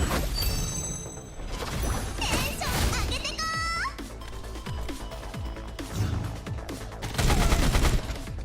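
Turrets in the video game Girls Frontline 2 fire sustained volleys of rapid gunshots, loud and close, with sharp cracks and impacts layered over game music.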